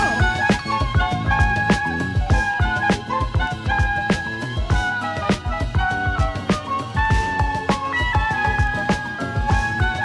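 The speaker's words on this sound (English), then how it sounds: "I already have this beat made" A looped music beat plays continuously, with punchy drum hits and layered melodic tones repeating steadily at an even tempo.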